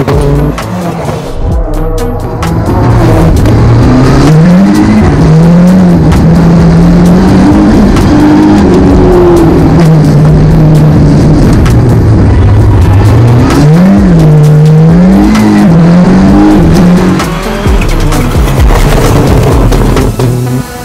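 A rallycross race car laps a track at full attack, the engine loud and close as it revs up and down through repeated rising and falling sweeps, with bangs and tire noise over roughly twenty seconds.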